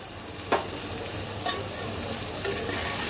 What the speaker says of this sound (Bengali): এবার সব কিছু দিয়ে 2-1 মিনিট সুন্দর করে ভেজে নেব